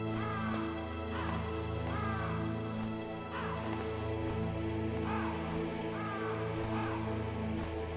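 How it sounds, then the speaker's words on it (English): Crows caw repeatedly in the Metal Gear Solid game, a series of harsh calls spaced about a second apart over a dense, steady droning ambience. "I think those are just birds."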